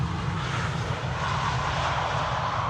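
An EasyJet airliner in from Dubrovnik, at Amsterdam Schiphol, holds a continuous, fairly loud engine roar with a low rumble, steady throughout and with no talking.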